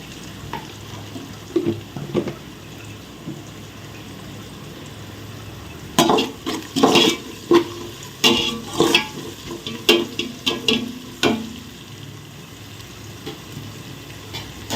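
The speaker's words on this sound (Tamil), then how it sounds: "வதங்குது நம்ம வெங்காயம்" Onions sautéing with a little salt in a pan for vegetable biryani, stirred with a spoon: quiet sizzling at first, then a run of scraping, clinking stirs against the pan, close and alone.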